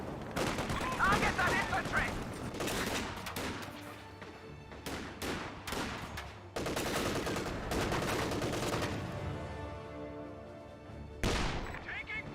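Gunfire in the World War II strategy game Company of Heroes 2: sustained rattling machine-gun bursts and individual rifle cracks, with heavier booms in between, running loud and dense throughout.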